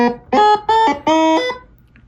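Arturia MicroBrute analog synthesizer playing a short run of four loud, buzzy harmonic notes that step in pitch, the last held longest, then a quick fade to near silence.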